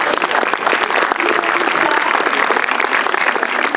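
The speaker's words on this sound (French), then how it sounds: "Vous pouvez les applaudir." An audience at a film screening applauds the film team, a dense, steady burst of close clapping throughout.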